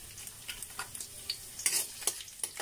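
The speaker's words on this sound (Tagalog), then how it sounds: "Magigisa tayo, uunahin muna natin yung bawang." Garlic sautés in a hot pan, giving a soft crackling sizzle with intermittent ticks and stirring scrapes, close and quiet, with no voices.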